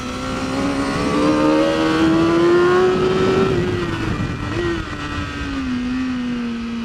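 A BMW race motorcycle accelerates hard on a track, its engine note climbing in a loud, close, continuous whine that dips briefly and then pulls again.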